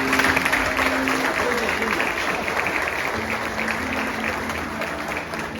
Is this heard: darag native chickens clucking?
no